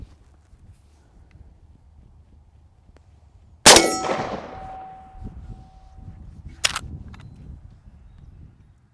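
A .410 shotgun blast of pellets striking a painted steel gong at 20 yards gives one sharp, loud metallic clang that rings and decays over a few seconds. A second brief metallic knock follows, then only faint ambient noise.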